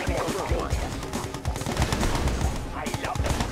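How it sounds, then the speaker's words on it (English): Rapid bursts of gunfire crackle through a gun battle in Red Alert 2 Yuri's Revenge, dense overlapping shots and machine-gun rattle throughout, with game voices mixed in. "Gun battle."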